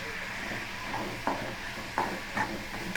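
Onions fry in hot oil with a steady close sizzle and hiss, broken by a few soft scrapes of a spoon against the pan.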